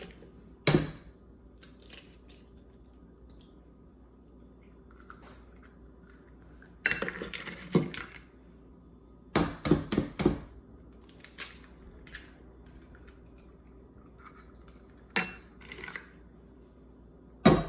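Eggs crack against the side of a bowl while mint chocolate chip cupcakes are being made: sharp, close taps and crunches come in scattered clusters over a quiet kitchen background.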